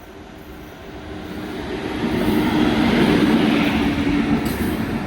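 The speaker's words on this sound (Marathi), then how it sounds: "पुण्या मुंबईची गाडी आहे म्हणून लय मोठी गाडी निघेल" A long Pune–Mumbai passenger train rumbles into a station, a broad, heavy roar that swells loudly from moderate to close and stays steady, with no talk over it.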